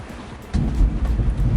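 Strong storm wind buffeting a parked camper van, a low roaring rumble that surges loudly after a quieter start and keeps gusting without a break.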